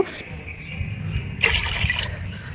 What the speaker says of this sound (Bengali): এইখানে আমি কিছুটা জল নেব